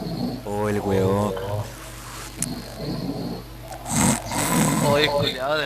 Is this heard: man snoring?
yes